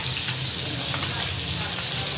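Cooking oil spatters and sizzles in a hot pan during frying, a dense, steady, close crackle with no pauses.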